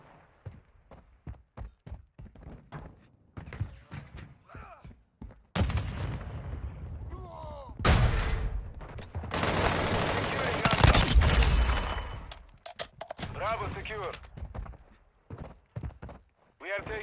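Heavy gunfire in Warzone Mobile. Bursts of automatic fire and loud blasts rise in the middle, after a run of quieter, rapid clicks and shots, with radio voices mixed in.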